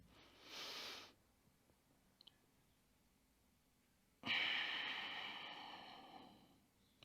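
Deep nasal breathing during a back exercise for spondylolisthesis, done lying on the floor: a short near inhale, a long pause, then a longer loud exhale that fades out slowly.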